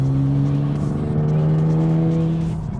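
A Nissan GT-R running its factory twin turbos accelerates hard, its engine holding a loud, steady, rising drone close by for a few seconds with no talk over it.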